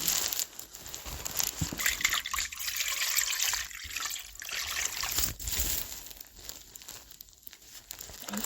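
Water pours from jugs over supplies being cleaned, an uneven trickling and splashing with crinkling handling noises, fairly faint and close, with no talking.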